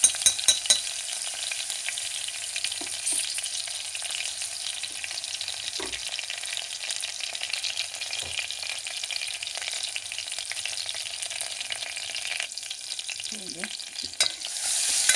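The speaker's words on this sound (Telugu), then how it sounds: "ఇది పచ్చివాసన పోయే వరకు వేసుకొని" Ginger garlic paste fries in a pan for lobia kadi, giving a steady close sizzle with a few soft scrapes from stirring and no talking.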